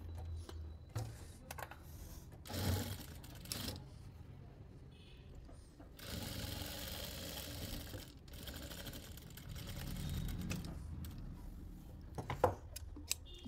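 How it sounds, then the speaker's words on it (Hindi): A sewing machine runs a loose basting stitch through saree fabric, whirring in bursts with pauses and mechanical clicks between runs, fairly quiet and close, no talking. "तो ऐसे सेट करके हम इस पर एक सिलाई लगा लेंगे पहले कच्ची"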